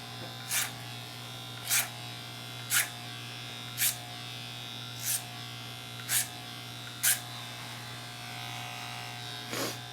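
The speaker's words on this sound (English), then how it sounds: "I'm going to use clipper guards to finish this fade out." Electric hair clippers buzz steadily at low level while cutting a low fade on dirty blonde hair, with about nine short, brighter strokes spaced roughly a second apart.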